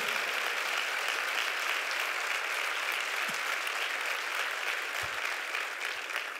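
A church congregation breaks into loud, steady applause that holds evenly throughout, a dense roomful of clapping with a few low thumps.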